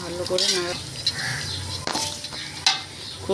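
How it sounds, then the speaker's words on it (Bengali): Whole spices (cinnamon, cardamom, black cardamom and bay leaf) stirred in hot oil in a pan for a chicken kosha, giving sizzling with scraping strokes and a few sharp clinks, a voice speaking over part of it. "ভালো করে এভাবে নাড়াচাড়া করব"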